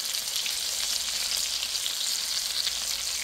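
Tandoori chicken cooks under a lid in a pan on low heat, giving a steady, even, bright sizzle with soft crackles and no pauses.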